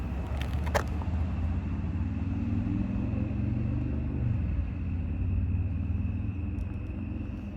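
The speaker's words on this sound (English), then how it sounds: "It's a car driving past me, man" A car drives past on the road. Its low engine rumble holds steady throughout, moderately loud and close, with a brief higher clatter near the start.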